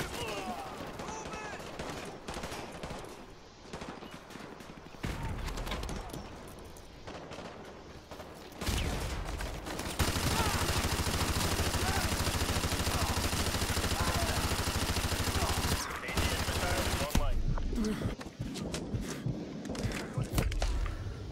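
A light machine gun in Call of Duty Modern Warfare 2 rattles off long, dense bursts of loud automatic fire, preceded by scattered shots and footsteps amid battle noise.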